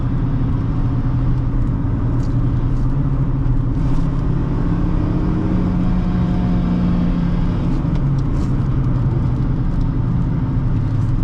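A 2008 Honda Fit engine pulls hard under acceleration on a test drive, a loud steady in-cabin drone with rising pitch and road rumble throughout, no talking.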